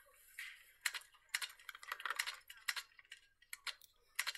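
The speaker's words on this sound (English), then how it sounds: "could you tell your sister to stop using my typewriter, please?" Typewriter keys clatter in quick irregular bursts of sharp clicks, close and crisp in an otherwise quiet room.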